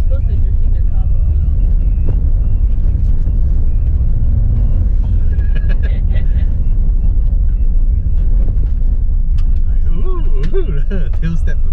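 A 2018 Toyota Rush SUV with its engine droning steadily and tyres scrubbing as the rear steps out on a road course, with a brief squeal near the end and people talking throughout.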